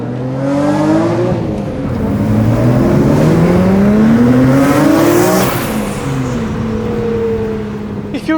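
A Nissan R32 GTR race car engine accelerates hard through the gears, loud and close from inside the cabin, with rising revs, shifts and a sharp pop near the end.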